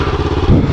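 Kawasaki Ninja 650 motorcycle (2019) fitted with an Akrapovic exhaust, engine running with a steady low rumble and a brief rev swell midway, close and loud with no talk.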